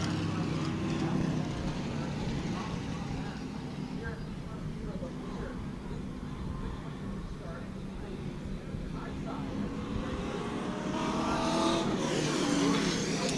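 Sportsman race cars run on New Smyrna Speedway during a yellow flag, a steady, continuous engine drone that swells slightly near the end, with commentary talking over it.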